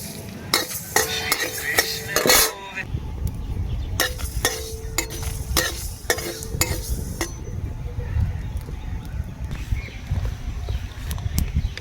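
Mustard seeds and fenugreek fry in hot oil after dried red chillies, for a coriander-leaf pickle: sharp crackles and pops come in quick bursts over a low frying hiss, with scraping from stirring and no talking.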